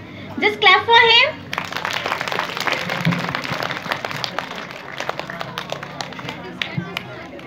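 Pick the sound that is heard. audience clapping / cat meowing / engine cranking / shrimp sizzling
audience clapping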